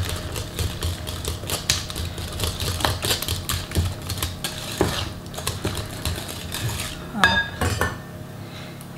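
Eggs being whisked into mascarpone cheesecake batter, with a rapid clattering whisk beating against the bowl in a continuous close rhythm.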